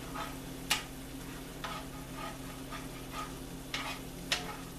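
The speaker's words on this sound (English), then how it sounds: "The more it cooks down and the more I stir it" Lumpy gravy cooking down in a pan, stirred with soft scraping strokes and a few sharper utensil clicks against the pan over a steady low sizzle and hum.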